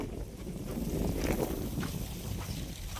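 Wind blows across open farmland, making a continuous broadband roar with rumbling, buffeting gusts against the microphone, close and steady throughout, with no voices.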